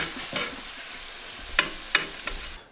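Meatballs get rolled around in warm sauce in a pan, a soft steady sizzle beneath a few sharp scraping clinks of a utensil against the pan, close and fairly loud, with no voices.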